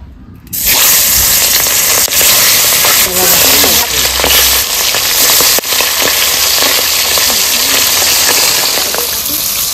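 Pabda fish frying in mustard oil in a hot wok, a loud, steady hiss and crackle of spitting oil that starts abruptly and carries on throughout with scattered pops.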